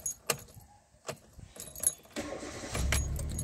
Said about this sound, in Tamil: ஸோ வண்டியை ஸ்டார்ட் பண்ணியாச்சு.